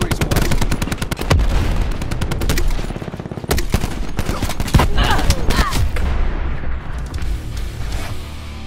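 Heavy gunfire and explosive booms sound from a Black Ops 4 artillery barrage, with loud rapid bursts, repeated blasts and a rumbling low end over nearly the whole stretch and no voices.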